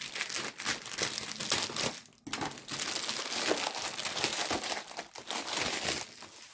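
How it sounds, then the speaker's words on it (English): Crinkly packing paper rustles and crumples continuously as it is unwrapped from a Disney doll's house partwork issue, with dense, close crackling bursts and a brief pause midway. "let's get out this crinkly stuff first"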